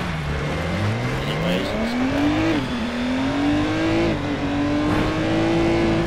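A racing car engine in a video game revs steadily, its pitch climbing through gears and holding high, loud and close throughout, with a few brief spoken words over it.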